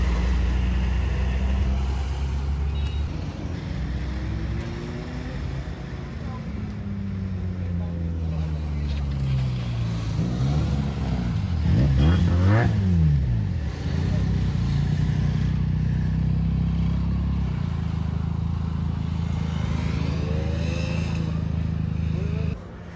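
A Hero Xtreme 125R single-cylinder motorcycle engine hums and revs while riding, a continuous rising and falling drone with a sharper rev swell midway, heard under steady wind rush and people talking.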